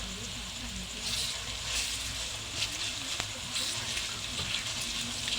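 Ginger garlic paste frying in a pan for chicken curry, a steady low sizzle running throughout at moderate level.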